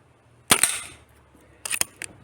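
An Artemis CP2 .177 air pistol fires pellets in two sharp, close snaps, the first louder with a short ring-off, the second arriving about a second later with a softer click after it.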